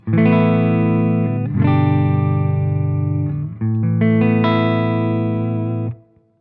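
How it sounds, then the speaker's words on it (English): Sustained clean electric guitar chords ring out with a touch of reverb through a Voodoo Lab PX8 Plus pedal switcher preset, three strummed chords played one after another, loud and close. "that preset is just a straight guitar tone"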